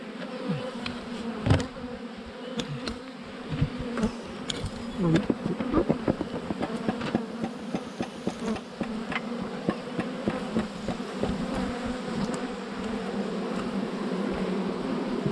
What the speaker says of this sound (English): So a good number of bees. Pretty happy.